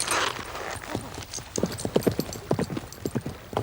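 Horse hooves clip-clop in a quick, uneven rhythm, close and distinct, with a burst of rustling at the start and sounds like voices in the background.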